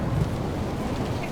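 Rain in Dragon Age: Inquisition pours as a dense, steady wash with a low rumble underneath, loud and continuous over a brief moment.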